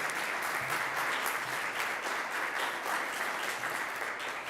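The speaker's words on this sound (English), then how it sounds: "Let's give him a round of applause" Applause from an award ceremony audience for an honored student, a sustained, even wash of many hands clapping in a hall, moderately distant.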